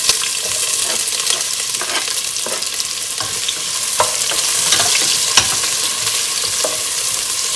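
Onion sautéing and being stirred in a pan for Kolambi Bhaat shrimp rice, a steady close sizzle broken by frequent scraping spatula strokes in an irregular rhythm, with no voices.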